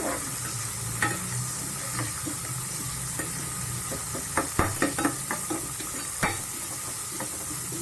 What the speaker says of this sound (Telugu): ఆనియన్స్ గోల్డెన్ బ్రౌన్ కలర్ రావాలి, అప్పటి వరకు వేయించాలి.